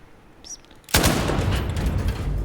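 Battlefield V gunfire erupts suddenly after a near-silent moment and becomes a sustained, loud burst of rapid shots that continues to the end.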